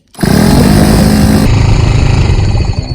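Old motorcycle found at a waste dump, its engine catching and running roughly for a few seconds: a loud, close, buzzing rattle that starts abruptly and holds steady before tapering off.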